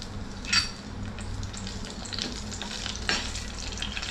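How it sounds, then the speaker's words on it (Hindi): Cloves, cardamom and two bay leaves sizzle in hot ghee, a close, continuous frying hiss with a couple of brighter crackling bursts as the spices go in. "तो ये डाल देते हैं घी में, और ये तेज पत्ता भी."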